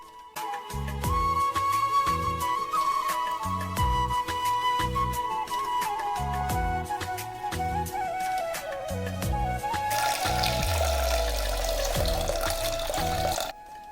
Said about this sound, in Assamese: পানী আৰু নিমখ জোখমতে দি দিছো